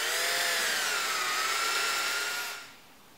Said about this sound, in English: it's a good idea to drill a small hole first before you go putting them in.